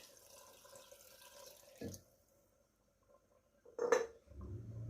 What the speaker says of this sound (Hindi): जी आधा जग मैंने इसमें पानी डाला है।